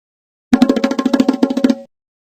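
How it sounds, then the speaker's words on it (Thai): A quick roll of rapid drum strikes, about fifteen hits in just over a second, close and loud, with nothing else around it. "เสียงปริศนาที่4เสียงกลอง"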